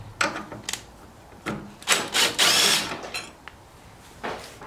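A screw is worked loose on the air filter housing of a Mazda 3 Skyactiv, a series of short, close ratcheting and scraping bursts with one longer grinding stretch in the middle, no talking.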